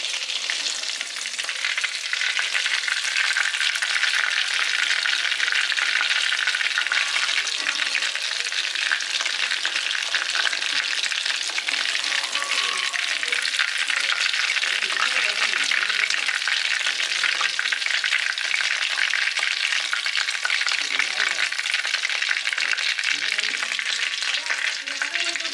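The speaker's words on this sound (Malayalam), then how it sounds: "അപ്പൊ ഇതുപോലെ നമുക്ക് എല്ലാം ഒന്ന് ഫ്രൈ ചെയ്ത് നമുക്ക് അടുത്തും കൂടി ഇട്ട് കൊടുക്കാം കേട്ടോ." Pieces of Kerala-style Payyoli chicken fry in hot oil with a continuous dense, loud sizzle that holds steady throughout, with occasional faint stirring.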